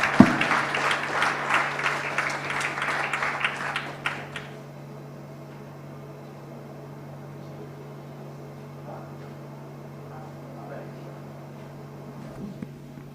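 Church congregation at an MMM Sunday school service in Bonaire applauds the Lord, about four seconds of dense, lively clapping that stops abruptly, leaving a steady low hum and faint room noise.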